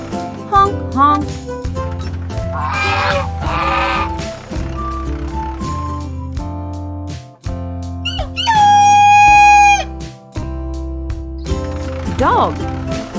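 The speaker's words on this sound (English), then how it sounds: "Dog, woof woof." A dog in a children's animal-sounds song for kids, with short barks and yips set over a busy cartoon music backing with bright tones and squeaky effects.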